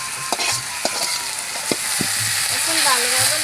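Jhumur greens tossed into browned onions frying in hot oil, a steady sizzle with several sharp stirring scrapes and clicks of the spatula against the pan, close and fairly loud.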